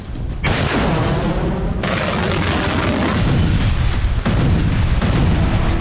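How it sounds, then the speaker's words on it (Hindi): A loud, sustained roar and booming blast from an Iranian military exercise missile test, with rumbling explosion noise holding steady throughout and a sharp cut in intensity partway through. "ईरान की मिसाइल ने 30 किलोमीटर दूर टारगेट को हिट किया"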